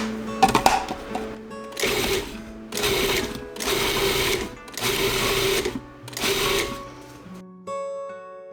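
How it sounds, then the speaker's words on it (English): Blender pureeing a large quartered onion with lots of garlic, running in five loud bursts of whirring separated by short pauses, close up and alone. "We're going to puree it, whoops, with all of this garlic."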